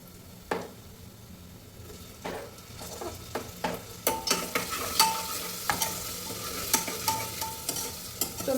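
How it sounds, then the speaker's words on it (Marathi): Tomatoes stirred into golden fried onions in a pan, with a steady low sizzle and repeated scraping clicks of a spoon against the pan that grow busier toward the end. "कांदा आता गोल्डन झालेला आहे. तर मी ह्याच्यात टाकते टोमॅटो."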